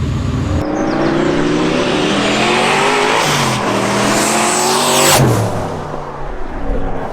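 A twin-turbo V8 Subaru Justy drives hard from inside the car, its engine climbing and dropping through repeated revs and gear changes, with a loud, throaty drone and a brief whoosh near the end.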